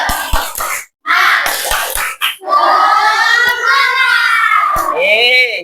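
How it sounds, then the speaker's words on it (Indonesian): A class of students claps together in a rhythmic spirit clap, bursts of clapping and chanting voices in unison filling a classroom, loud and close with short pauses between phrases. "silakan dulu tepuk semangat"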